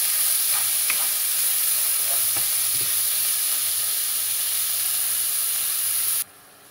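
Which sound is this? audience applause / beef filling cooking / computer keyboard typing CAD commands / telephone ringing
beef filling cooking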